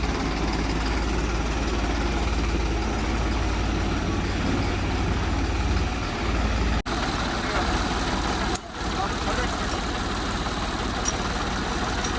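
A tractor engine idles steadily with a deep, continuous low rumble, unbroken apart from two brief dropouts, during a maize harvest.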